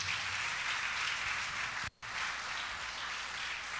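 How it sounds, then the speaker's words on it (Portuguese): A church congregation applauds in a steady, dense wash of clapping that sounds like heavy rain, pausing very briefly in the middle before carrying on at the same level. "Pode aplaudir o Senhor,"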